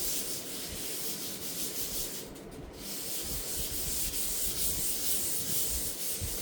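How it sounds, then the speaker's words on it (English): Continuous close rubbing of 600 grit sandpaper smoothing a glue repair on wood veneer, a steady soft scratchy hiss with gentle back-and-forth swells and one brief pause. "I'm using 600 grit and just kind of smoothing it out."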